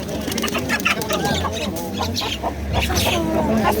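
A rooster crows among clucking chickens in a farm setting, its calls rising over a busy, noisy background of fowl and livestock sounds throughout.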